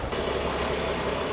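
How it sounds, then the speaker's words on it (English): A sailboat's engine idles in a steady, low rumble continuously at close range, with no voices and no change in level throughout. "I think it's time to turn off the engine."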